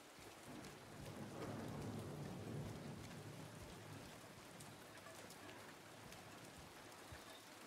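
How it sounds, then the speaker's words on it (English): Rain and thunder in the 2024 video game Silent Hill 2: a dense, steady rain hiss with a deep thunder rumble swelling early and fading, with no voices. "Still raining"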